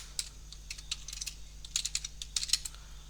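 Fingers tap out a command on a computer keyboard in an irregular run of light, close clicks, alone in a quiet room over a low steady hum.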